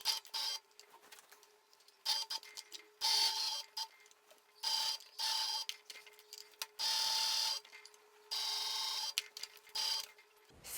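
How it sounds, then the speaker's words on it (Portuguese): Straight-stitch sewing machine sewing the facing of a princess-style blouse, several short bursts of fast, even stitching separated by pauses, close and clear, no talk. "E a gente vai costurar com toda a calma do mundo pra fazer esse contorno todo"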